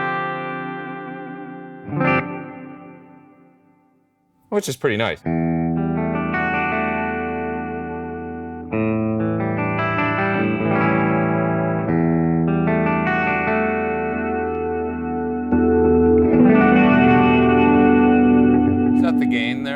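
An electric guitar rings through a TC Hall reverb pedal, a few strummed chords and a sharp attack followed by sustained, washy chords with long hall-like tails; a voice briefly speaks over the playing.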